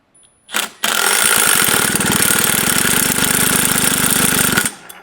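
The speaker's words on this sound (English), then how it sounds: "Maybe I can spin it with a drill." A small Echo 650EVL engine is spun hard and steadily by a power drill for about four seconds, a loud rapid buzzing drone that cuts off abruptly after a brief initial burst.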